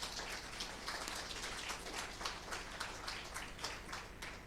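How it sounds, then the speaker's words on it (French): Audience applause for a guest speaker being welcomed at a talk on Sufism, a steady dense wash of many hands clapping that holds evenly throughout with no pauses. "Je voudrais qu'on l'applaudisse"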